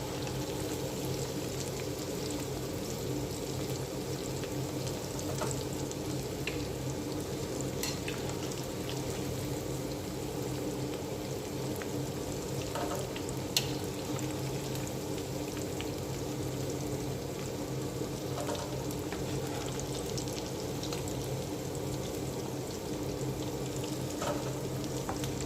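Green chillies and curry leaves frying in oil, a steady close sizzle with a constant low bubbling bed and scattered small pops and crackles throughout.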